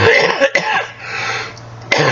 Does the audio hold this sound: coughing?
yes